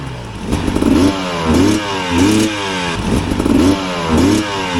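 A trail dirt bike engine with stock fuel-injection mapping revs in repeated bursts, rising and falling about every second, sounding rough and unwilling to climb cleanly to high revs.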